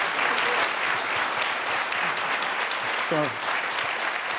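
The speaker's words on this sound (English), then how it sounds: "So can we please give the panel a round of applause?" Audience applause for a panel discussion, loud dense clapping throughout with a short spoken word or two near the end.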